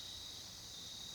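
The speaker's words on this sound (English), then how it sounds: "Hear a lot of crickets right" Crickets chirp outdoors at night in a continuous, even, high-pitched drone that holds steady and fairly faint throughout, with no other sounds standing out.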